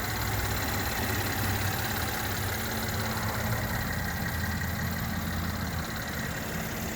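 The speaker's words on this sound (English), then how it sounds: "You can hear it idling very happily." A 2016 Mercedes E350 Sport 4Matic wagon idles smoothly and steadily, a low even hum heard close, uninterrupted and without talk.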